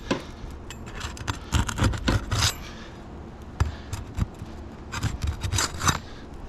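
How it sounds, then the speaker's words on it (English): A flat bar scrapes and rasps against a damaged asphalt roof shingle as it is pried loose, in irregular bursts of gritty scraping separated by short pauses. "I'm going to start by debonding the shingle that has been damaged."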